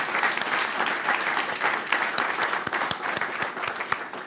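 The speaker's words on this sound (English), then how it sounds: "let's just give a round of applause to all our recipients" A room of people at a village board meeting applauds scholarship recipients, a steady, moderately loud wash of clapping lasting several seconds.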